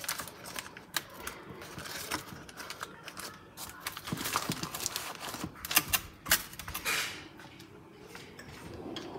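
A knife chops potatoes on a cutting board while a homemade tart is being prepared, giving quick, irregular clicks and taps that cluster in bursts. They are fairly faint and close, with no talking.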